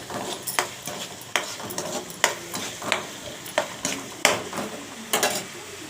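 Food is stirred in a frying pan with salt added, making a rhythmic series of scraping, clinking strokes over a soft sizzle, close and fairly loud.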